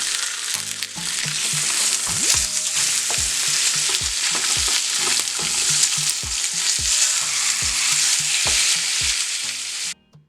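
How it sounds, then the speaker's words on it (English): Steak sears in a hot pan with a loud, continuous sizzle and crackle, broken by repeated spitting pops and scraping bursts throughout, ending abruptly. "we just wanna make sure that they are getting seared on the outside"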